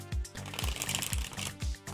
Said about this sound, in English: you don't feel like watching me shuffle